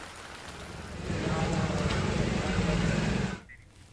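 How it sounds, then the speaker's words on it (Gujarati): Heavy monsoon rain in Amirgadh, Banaskantha, Gujarat, pours down in a dense, steady hiss that grows heavier after a moment, then cuts off abruptly near the end. "ભારે વરસાદ સાબરકાંઠા જિલ્લામાં રેડ એલર્ટ જોવા મળી રહ્યું છે"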